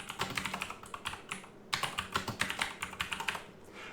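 Typing a report name on a computer keyboard: a brisk run of close, crisp key clicks, a short pause, then another quick burst of keystrokes, with no voice.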